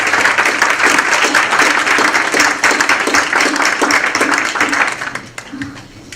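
Sustained applause from an audience thanking the panelists at a public policy forum, dense steady clapping filling the room for several seconds before it begins to thin out at the very end.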